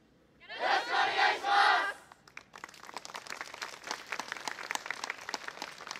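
At a yosakoi dance festival, a crowd lets out a loud group shout, then the audience keeps clapping along in a steady rhythm, moderately close and without talk.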